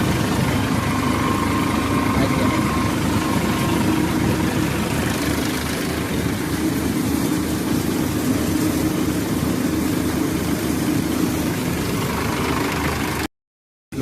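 A tractor-driven thresher processing cumin and mustard runs with a loud, steady engine drone and mechanical rumble, continuing unbroken before cutting off abruptly near the end.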